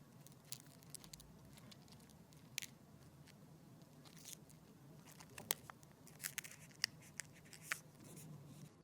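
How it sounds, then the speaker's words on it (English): Carpenter ants inside a wall make faint, irregular clicks and dry rustling ticks scattered over a quiet background, some taps sharper and closer together toward the end. "You can also listen for clicking or rustling noises in your walls."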